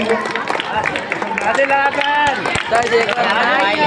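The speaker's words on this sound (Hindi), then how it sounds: "सभी लोग एक बार जोरदार तालियां बजाएंगे" Loud, close clapping from an audience at a Republic Day school event, uneven and busy, with shouting voices mixed in throughout.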